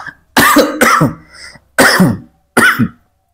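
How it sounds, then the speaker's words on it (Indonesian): Four harsh coughs in a row, close and loud, separated by short pauses, the last a little weaker. "masih batuk soalnya"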